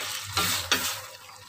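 A spatula stirs fried potatoes with sweet soy sauce seasoning in a frying pan, giving two quick scraping sizzles over a soft background frying hiss.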